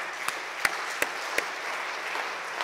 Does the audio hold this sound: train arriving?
no